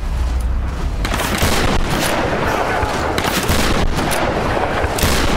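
Sustained gunfire in the Tomb Raider Definitive Edition video game, a dense loud barrage of shots and booms filling the whole stretch with no pauses.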